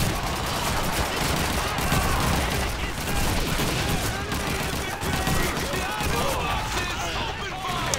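Dense, continuous rifle and battle gunfire fills a Call of Duty 2 match, with shots overlapping loudly and without a break, and voices come through underneath at times.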